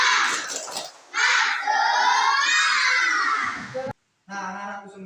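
A class of schoolchildren shouts a loud group spirit chant in unison in a classroom, rising sharply after a short lead-in, holding for several seconds, then stopping abruptly before a brief final burst.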